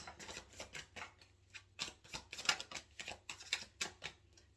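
Tarot cards being shuffled and drawn for a past, present and future spread, a quiet run of soft rhythmic riffling and flicks in close, steady bursts with no talking.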